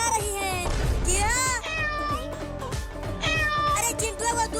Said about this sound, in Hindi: ये तीनों बिल्लियाँ मुझे काटने के लिए दौड़ा रही हैं।